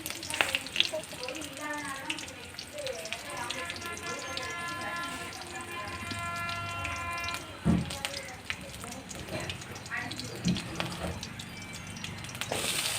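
Curry leaves and green chillies sauté in a pan with a steady, close sizzle and frying crackle, broken by a sharp knock around the middle and a few light utensil sounds, with soft background noise throughout.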